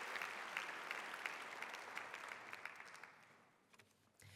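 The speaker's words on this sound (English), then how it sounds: "And let's give them a warm round of applause." Audience at a college awards day ceremony gives a warm round of applause, many hands clapping steadily, then thinning and fading out toward the end.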